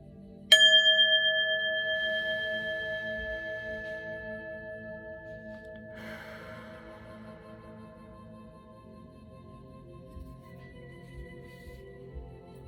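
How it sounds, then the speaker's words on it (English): A single bright bell strike rings out and slowly fades over several seconds, with a faint second tap partway through. "Let me ring the bell."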